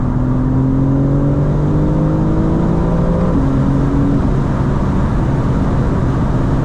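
A 2025 BMW M4 CS pulls hard in fourth gear, engine note climbing steadily under loud wind and road roar, with a brief dip as the pitch steps up midway, heard from inside the cabin.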